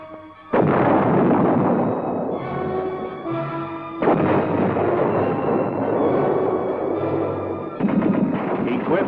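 An M60 Patton tank's 105mm cannon fires in three loud, booming blasts spaced a few seconds apart, each trailing off into a long rumbling echo, with no voices.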